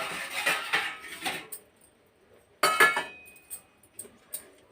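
A spoon scrapes a ground paste of curry leaves, ginger, green chilli and garlic into a small bowl, with rustling scrapes followed by sharp metal and ceramic clinks spaced unevenly, close and fairly quiet.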